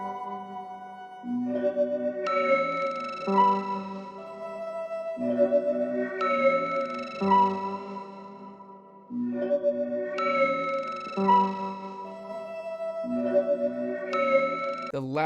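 A synth plays a repeating chord pattern with a long reverberant tail, the tone sweeping gently from side to side, steady and moderately loud.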